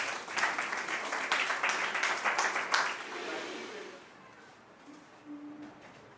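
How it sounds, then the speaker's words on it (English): Audience applause for a mathematics professor at a university department event, dense and steady for about three seconds, then tapering into scattered claps and low room noise. "Please let's give him a round of applause."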